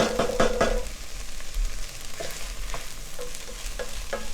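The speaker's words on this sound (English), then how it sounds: "But you see, I'm still caramelizing my onions." Onions caramelizing in a pan with okra for a gumbo with no flour roux, stirred with a few sharp scraping knocks at the start. A low sizzle follows under scattered light taps, close by, with no speech.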